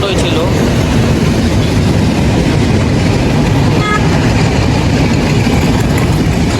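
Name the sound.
train passing on rail line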